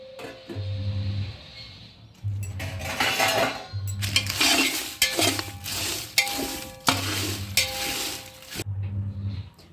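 Fennel, shahjeera and stone flower are stirred together in a pan while making pulav masala powder, with repeated metallic scraping strokes in a steady rhythm and a faint background hum.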